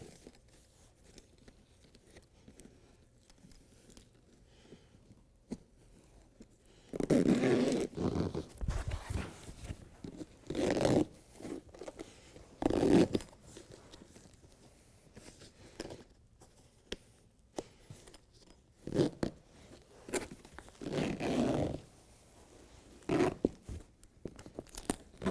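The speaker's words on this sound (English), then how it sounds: "Bulkhead portion zips on pretty much the same way." BedTred Ultra liner bulkhead section being zipped onto the bed of a 2017 Ford F-350, heard as several separate bursts of rasping, crunchy zipper pulls with quiet pauses between them, close by and with no talk.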